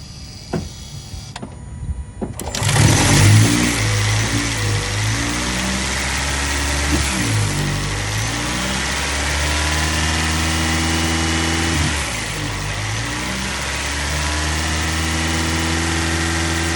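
Toyota Camry with the 2.5 engine after a spark plug replacement cranks briefly and catches, then settles into a steady, even idle that drones on close and alone.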